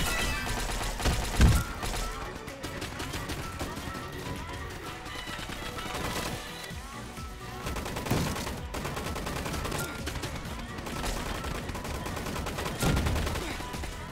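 Laser LMG rapid fire in Roblox Gunfight Arena, fairly quiet continuous automatic shots in long sustained streams with occasional heavier thumps, and a voice talking over it.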